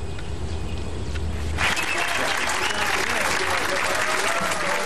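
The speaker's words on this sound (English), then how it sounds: "The crowded room, as you can see, cheering the announcement." A crowded room of Warrior supporters in Dallas cheers and applauds loudly at the coach's official announcement. Dense clapping mixes with whoops and rises sharply partway through, close and sustained.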